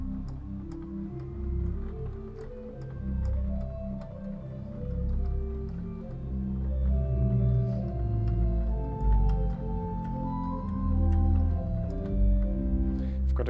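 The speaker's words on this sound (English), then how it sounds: "The gedeckt by itself sounds like this." A pipe organ in a Baltimore Lutheran church plays its gedeckt stop alone: soft, round, stopped-flute tones in a slow line of sustained chords and moving notes, steady and moderately loud throughout.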